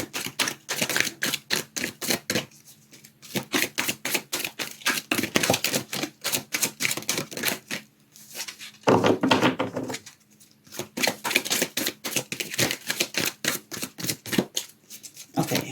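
Rapid bursts of crisp tarot card riffling and flicking repeat in quick clusters with short pauses between, close up and fairly loud.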